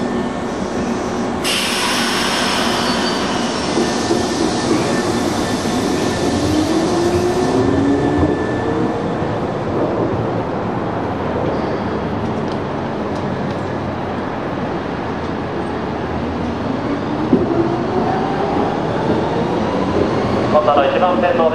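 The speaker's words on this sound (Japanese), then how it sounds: "浦賀行きが発車です。" A Keikyu (Keihin Electric Express) train pulls out bound for Uraga, its motors whining in rising tones over a rumbling station platform, with voices and announcements heard in the background.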